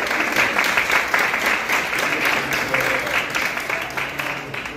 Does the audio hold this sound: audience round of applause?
yes